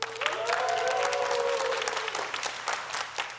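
Audience applause and cheering at a church youth service fills the room, dense and steady for a few seconds before thinning slightly, with a brief tonal whoop or cheer rising over the clapping early on.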